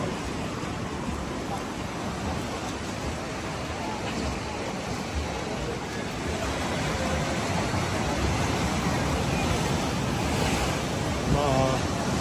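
Ocean waves on the coast near Bondi in Sydney, a continuous broad roar of surf mixed with wind buffeting the microphone, loud and close, swelling slightly toward the end.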